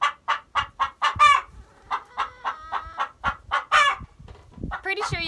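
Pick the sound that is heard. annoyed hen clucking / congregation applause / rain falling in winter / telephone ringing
annoyed hen clucking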